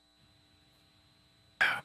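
A single short, harsh throat clearing bursts out near the end after a quiet stretch of low room hum.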